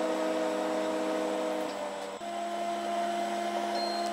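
A convection oven running while baking oat cookies, giving a steady mechanical hum with tonal whine from its fan, constant and close, with a slight shift midway and no talking.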